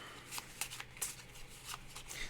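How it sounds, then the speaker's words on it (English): Playing cards being shuffled during a solo tabletop adventure card game, a quiet close run of soft riffling and flicking bursts with no talk. "Okay, shuffle and draw."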